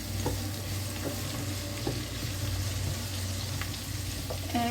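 Chicken seasoned with pepper stirred in a frying pan for a beer-sauce dish, a steady close sizzle with several soft scraping strokes of a utensil spread across the pan at an even pace.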